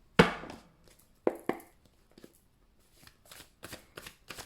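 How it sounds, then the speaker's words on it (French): Tarot cards are shuffled and drawn in several crisp bursts of riffling and snapping, loudest at the start, then softer, scattered flicks and slides of the cards, close by with no talking. "Je vais reprendre une carte."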